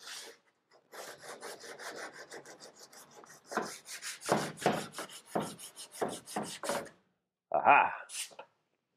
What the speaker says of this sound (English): I did all the sanding with the face mask on.